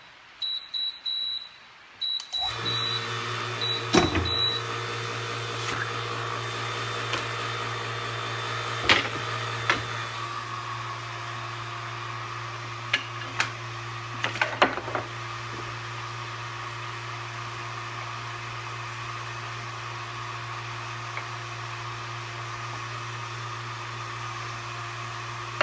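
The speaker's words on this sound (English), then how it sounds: "Right now, I'm leaving the vacuum pump running." A vacuum pump and cooling fan run in a holster-making shop, giving a steady mechanical hum and whir that drones on without a break. Several sharp beeps and clicks come early, with a few brief knocks later.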